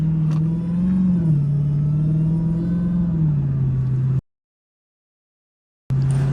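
A Dodge Hellcat revs hard in snow, a loud, steady engine roar with a rising and falling pitch for about four seconds, then cutting out completely before the roar returns near the end.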